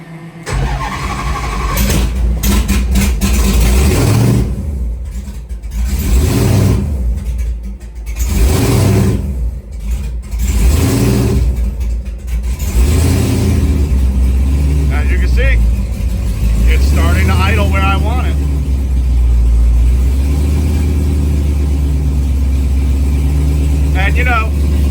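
A car fitted with a Holley EFI throttle body cranks, starts with a stumble and revs in loud, close bursts before settling to a steady idle, with someone talking throughout.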